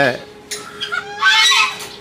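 Geese or ducks call out in a few loud, nasal honks close by, with short gaps between the calls.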